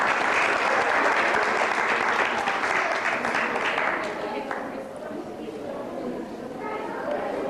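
A wedding anniversary crowd claps for the couple at the cake cutting, a dense burst of applause that stays loud for about four seconds, then thins, with voices mixed in.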